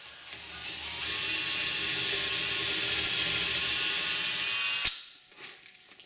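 A drill bores a hole for a repaired spindle in a child's wooden rocking chair, a steady whirring run of about four seconds that stops abruptly, followed by a brief faint rattle.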